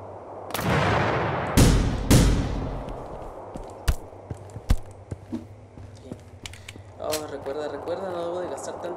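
Gunfire in the video game The Final Station: several loud, sharp shots at the start, then scattered lighter hits and impacts, with a voice talking over the later part.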